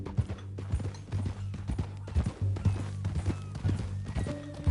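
Horse hooves clip-clop at a walking pace in Red Dead Redemption II, steady close thuds with ranch-style ambience, no voices over them.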